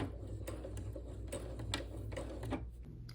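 Sewing machine back stitching a cotton tote bag, a faint rapid mechanical ticking and whirring with a few short starts and stops over a low steady hum.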